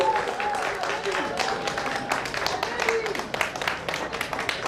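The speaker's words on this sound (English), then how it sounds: "Please give him a hand of applause too." Audience applause at a graduation celebration, a steady crowd of clapping hands with voices and cheers mixed in throughout.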